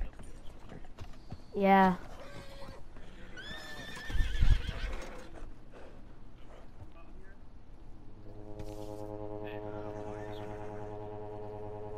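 In Red Dead Redemption 2, a saddled horse whinnies with a descending call, followed by a low thump and a long droning tone, with a brief spoken word in between.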